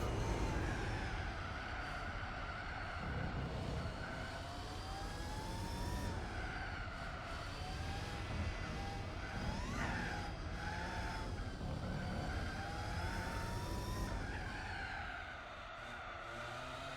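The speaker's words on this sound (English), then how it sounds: "If only it had an accurate engine sound in the base game, which is what we're playing now." A car's engine in the base version of Gran Turismo 4 on the Autumn Ring track, revving upward in repeated sweeps with shifts between them, a continuous fairly loud whine layered over low rumble.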